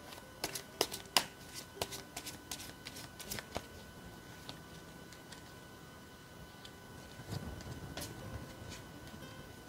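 Tarot cards shuffled and handled close up, a steady papery rustle broken by sharp snapping riffles and taps, fairly quiet with no talk.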